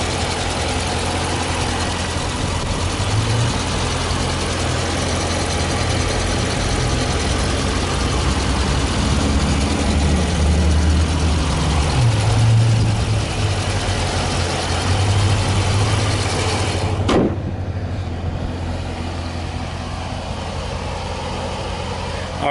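A 2015 Dodge Challenger R/T Scat Pack with a 6.4 liter Hemi V8 idling close by, a steady deep rumble with slight rises in pitch, cutting off abruptly near the end.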